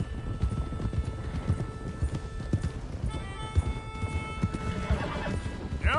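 Horses in the video game Red Dead Redemption 2 gallop with rapid, rhythmic clip-clopping hooves, while neighs and whinnies rise above the hoofbeats late in the run. The sound is moderately loud and continuous.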